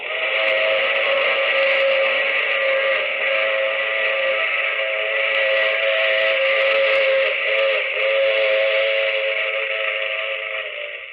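A train whistle sounds as a long sustained steady blast, loud and continuous over a faint rolling rumble, as a sound effect in an old radio drama with no voices.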